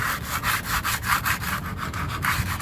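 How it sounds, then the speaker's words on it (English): Rear brake shoes from a Ford F-150 being lightly scuffed with abrasive, a rapid series of short rasping strokes in a steady rhythm, close and moderately quiet with no voices. "For the shoes, I'm going to give them a very, very light scruff"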